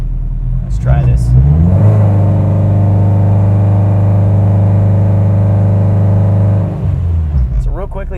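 A forced-induction K-Series engine on a dyno climbs sharply in revs, then holds a loud, steady drone for several seconds before easing off, close and dominant.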